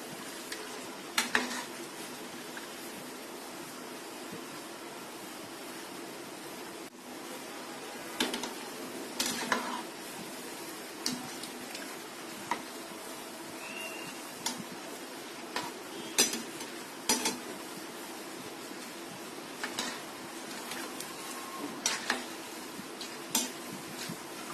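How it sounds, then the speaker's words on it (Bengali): Snacks deep frying in hot oil in a pan while being turned, with a low sizzle under repeated clinks and scrapes of a utensil against the pan, spaced irregularly through the stretch. "উল্টে পাল্টে ভালো করে ভেজে নিতে হবে"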